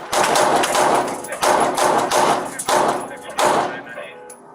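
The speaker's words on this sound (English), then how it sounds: "Where's he shooting from?" Gunfire during a police shootout with an alleged carjacker at his hideout, heard as a series of five or six loud, sharp bursts spaced about a second apart, with voices talking in the background.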